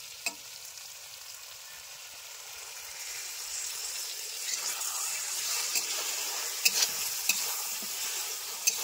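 Masala paste for egg dopyaza being stirred and fried in a pan, a steady soft sizzle with scattered scraping clicks of the spoon, close and continuous with no talking.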